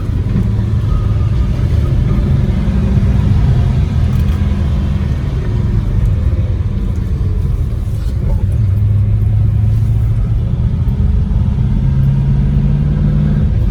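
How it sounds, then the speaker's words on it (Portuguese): A 1969 Chrysler Esplanada with a small-displacement engine pulls along the road, a loud steady low rumble with a mid-range engine drone that rises and eases slightly as it accelerates. Road noise fills in beneath, and no one talks. "O motorzinho tem um torque legal"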